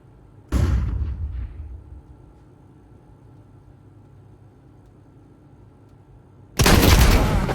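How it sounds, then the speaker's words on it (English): Flashbang grenade detonating in a competitive shooter game, a sharp loud bang with a short decaying ring, quiet for several seconds, then a second heavy blast or burst of gunfire at the end. "Flashbang out."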